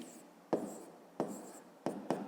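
A pen scratches out numbers on paper in four short, distinct strokes spaced across a couple of seconds, close and quiet with no voices.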